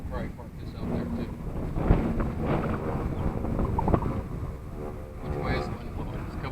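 Strong wind buffets the microphone outdoors at an air show, a steady low roar that rises and falls throughout, with people talking underneath.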